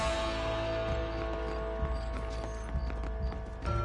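Horse hooves clip-clop at a regular trot through an alleyway in the Red Dead Redemption video game, a few distinct thuds sitting under a constant sustained music drone.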